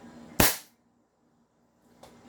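An airsoft pistol fires one crisp, loud shot during a chrono test, the crack decaying quickly into silence before a softer second pop arrives near the end.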